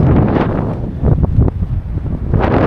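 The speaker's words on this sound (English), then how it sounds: "We've woken up to another windy day as predicted." Strong gusting wind on a sailboat off Turkey buffets the microphone in loud, continuous roaring bursts, with the low rumble of an exposed outdoor setting and no voices.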